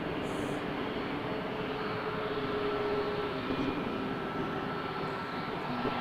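Jazz Embraer 175 jet departing Toronto Pearson for JFK, a steady broadband engine roar held at constant loudness throughout, no voices.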